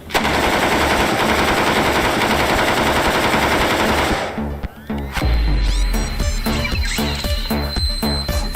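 An airsoft Ares Stoner LMG fires in long, loud, continuous bursts for about four seconds, then a brief pause before more shorter bursts and sharp clattering hits follow.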